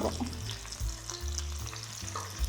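Curry leaves fry in hot oil for a Kerala-style fish curry, a close, busy crackling sizzle with spattering pops, heard alone without talk.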